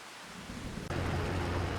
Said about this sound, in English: We cannot do this in the rain.